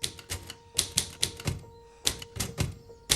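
Typewriter keys clatter in quick bursts of sharp clicks, punctuated by forceful carriage returns, close and loud with steady pauses between runs; a faint sustained tone hums underneath, from a scene in the film Atonement.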